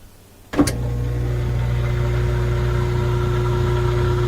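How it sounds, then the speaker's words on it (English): A Frigidaire laundry center washer motor starts with a sharp click, then keeps up a steady, moderately loud hum as it spins, with no voices. "Motor spinning."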